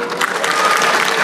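A town hall crowd in Daegu breaks into a short burst of applause, dense clapping heard up close with some crowd noise mixed in.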